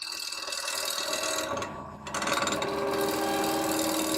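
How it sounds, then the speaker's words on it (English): A wood lathe spins steadily at about 1000 RPM, a continuous loud mechanical whir with a brief dip in the middle before resuming, no voices. "The lathe is running, what is it? About 1100 to 1000 RPMs."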